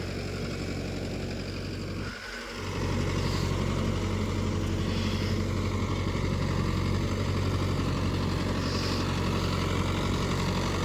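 Mahindra Yuvo Tech+ 585 tractor engine pulling a 9-tine plough, a steady, continuous mid-pitched engine drone that holds an even loudness throughout, with one brief dip near the start.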